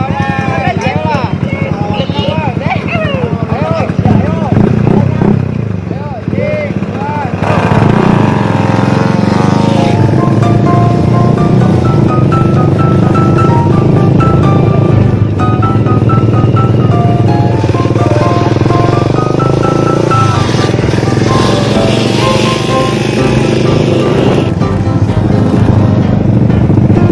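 A motorcycle engine drones loudly and close for the whole stretch, a rough steady revving hum with shifting pitch, while people talk and shout over it in a Sundanese comedy skit.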